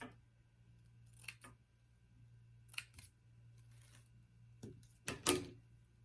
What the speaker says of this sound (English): let's cut off the remainder of this deco mesh here